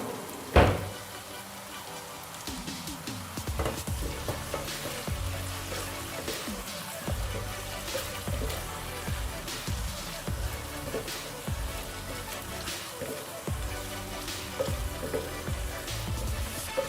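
Chopped onions frying in oil in a pan until they turn pink, a steady close sizzle with occasional stirring clinks, after a sharp knock at the start.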